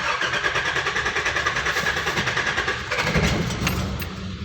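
A 1990 Nissan Safari engine cranking over with a steady rhythmic churn of the starter, loud and close, that swells briefly near the end as it tries to catch without settling into a clean idle.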